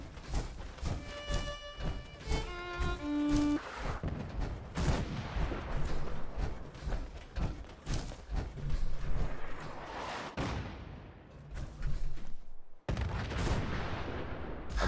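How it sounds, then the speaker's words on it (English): Artillery test fire in Fallout 4 booms in a series of heavy, echoing blasts after a brief tonal passage, loud and rolling, with short gaps and a sharp cut near the end. "One of those smoke grenades into the target area and we'll start the test fire."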